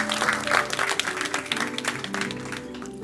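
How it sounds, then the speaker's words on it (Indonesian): A church congregation at a fasting prayer service applauds in a dense, moderately loud burst that fades toward the end, with some voices and a low hum underneath. "Kalau tepuk tangan ini jangan setengah-setengah hati"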